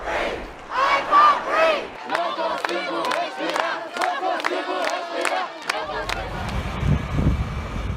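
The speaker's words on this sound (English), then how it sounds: "some of Floyd's last words, "I can't breathe," are now being carried and chanted by protesters around the world" A large protest crowd chanting together in loud, rhythmic unison, voices rising and falling in repeated phrases, with a denser roar of massed voices near the end.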